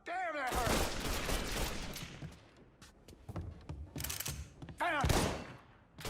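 Bursts of gunfire fill a Mafia 3 firefight, rapid overlapping shots and heavy impacts in two loud waves with a lull between, with shouting voices in the mix.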